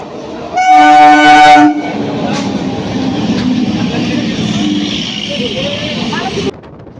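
A metro train's horn sounds briefly, followed by a steady rumbling roar as the train pulls into Dum Dum metro station in Kolkata, then it cuts off abruptly.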